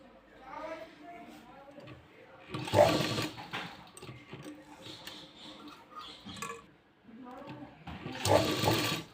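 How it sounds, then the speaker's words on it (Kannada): A sewing machine runs top stitching along a sleeve in two short bursts of rapid needle clatter, close and fairly loud, separated by someone talking in Kannada. "ಇದ್ರ ಮೇಲೆ ಒಂದು ಟಾಪ್ ಸ್ಟಿಚ್ ಹಾಕ್ಕೊಂಡು ಬರೋಣ"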